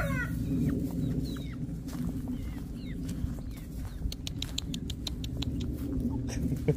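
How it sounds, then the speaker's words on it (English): Chickens and roosters on a rural Thai rice farm in Ubon Ratchathani, scattered clucks and short calls over a constant low outdoor rumble, some near and some farther off, with a few brief sharper cries toward the end. "let's end this video with the chickens and the roosters"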